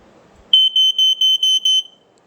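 A FireX FX1218 smoke alarm gives six loud, piercing beeps in quick even succession during a test, then falls silent; a faint rustle comes before it.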